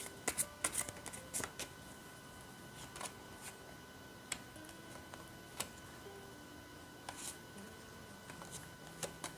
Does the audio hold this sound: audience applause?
no